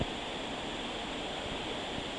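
A waterfall at an old gold-mining site gives a broad, even rush of falling water, a steady hiss that stays constant and moderately faint with no voices.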